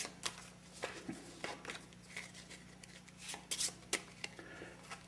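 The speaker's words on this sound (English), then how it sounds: "Shuffle them up." A deck of playing cards without face cards is shuffled by hand at close range, giving quiet, scattered riffling clicks and flicks in irregular bursts over a low, steady hum.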